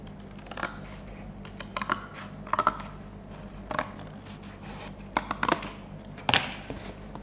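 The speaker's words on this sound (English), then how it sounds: "I know that this edge needs neatening up, so I'm just going to trim this down" Scissors trim the edge of a cardboard piece for a gingerbread house, a series of crisp close snips in irregular clusters, a few seconds apart, over a quiet room with no speech.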